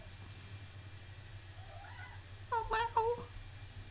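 A pet cat gives two or three short, fairly faint meows in a quiet indoor room with a low hum, and a person speaks briefly just before.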